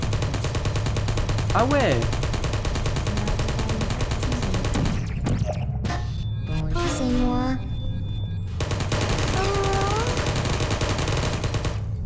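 Sentry turret in the video game Portal firing bursts at the player, rapid gunfire under continuous game noise, with someone speaking briefly.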